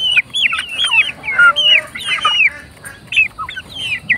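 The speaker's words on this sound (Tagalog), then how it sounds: "update sa ating mga nakakulong na mga sisiw" Growing chicks kept in a quarantine enclosure peep in a steady run of high, bright chirps that overlap one another, close and fairly loud.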